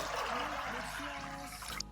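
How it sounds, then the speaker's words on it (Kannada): Water poured steadily into a pressure cooker holding soaked chickpeas, a continuous close trickling and gurgling that runs for about two seconds before tapering off. "ಇದಕ್ಕೆ 1 ಲೀಟರ್ ಅಷ್ಟು ನೀರು ಹಾಕೊಂತಾ ಇದ್ದೀನಿ."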